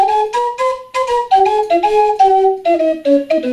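A breathy ceramic ocarina plays two notes at once an octave apart, stepping through a short slow melody with small gaps between phrases.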